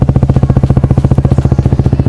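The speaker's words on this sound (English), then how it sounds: "obviously I've got the Aquapovic exhaust on here, so it sounds really good" Yamaha YZF R125 fitted with an Akrapovic exhaust idles close by, its single-cylinder beat thumping in a fast, even pulse of loud pops with no voices.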